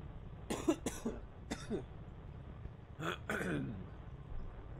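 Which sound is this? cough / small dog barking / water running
cough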